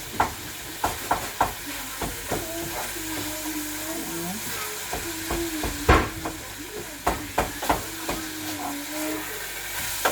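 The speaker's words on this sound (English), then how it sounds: "I'm going to stir it" Blended meat for a meat pie filling stirred as it fries in oil, a constant soft sizzle broken by repeated scraping and knocking of a spoon against the pan, fairly close, with no talk.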